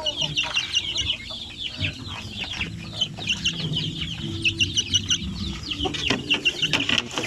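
A two-month-old stag rooster clucks repeatedly among other chickens on a farm, with other fowl sounds and some background voices.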